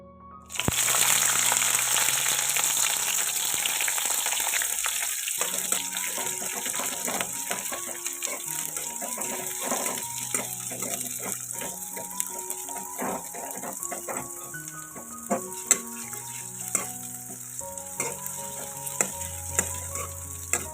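Green chilies and onions fry in oil for radish greens, starting with a sudden loud sizzle that settles into steady crackling, with metal spatula scrapes and clinks against the pan, close up.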